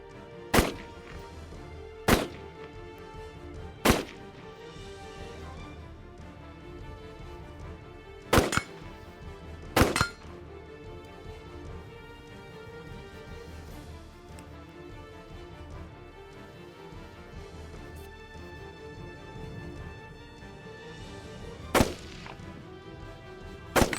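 Gunshots ring out one at a time with irregular gaps, sharp cracks at a distance over a low steady background rumble, about eight shots in all.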